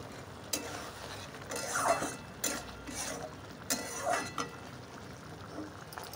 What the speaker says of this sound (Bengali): এবার ঢেলে দিচ্ছি।